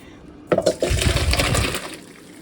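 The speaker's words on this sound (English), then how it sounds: "I'm going to save that because it has good starch in it, the potato water" Starchy potato cooking water is poured from a pot into a cup, a sudden loud splash that settles into a gurgling, steady stream for about a second and a half before trailing off. Close by, with no talk.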